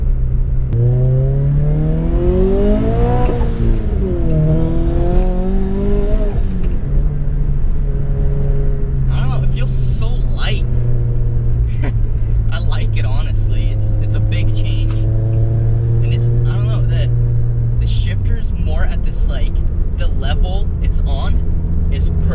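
A manual car with a new shift knob revs its engine hard through quick gear changes, the pitch climbing and dropping between shifts, close and loud, with a steady low hum underneath and some clicks later.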